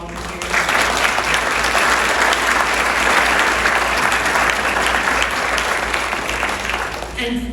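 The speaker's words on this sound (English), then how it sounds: "So a round of applause to all of our volunteers." Loud, sustained audience applause at an international exstrophy conference welcome, dense clapping filling the room evenly throughout before tapering slightly at the end.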